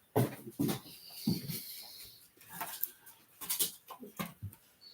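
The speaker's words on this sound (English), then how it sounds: "I thought I heard you yelping." A dog lets out a string of short, high yelps and whimpers in close, irregular bursts, with quiet gaps and faint rustling between cries.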